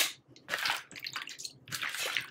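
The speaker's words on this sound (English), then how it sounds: "I'm finna drain the water out of it now." Water from a pot of boiled shrimp is poured off and drained in a kitchen, coming in loud, close splashing bursts with short pauses between them and no talk.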